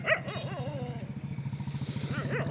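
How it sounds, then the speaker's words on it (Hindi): Several dogs bark repeatedly in a fast, steady run of woofs with a few higher yips, fairly close and loud throughout. "मेरे डॉग को फ़र्क नहीं पड़ता वो भौंक रहे हैं"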